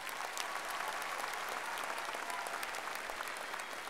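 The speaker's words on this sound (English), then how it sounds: "so let's give them a round of applause" Steady, dense applause from a large crowd at a high school graduation ceremony, continuous and even throughout with no break or talking over it.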